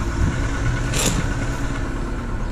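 Seat Cordoba 1.4 16v petrol engine starting and revving, close and steady with a brief sharp burst of noise midway, then settling into a continuous idle-like drone, no talk.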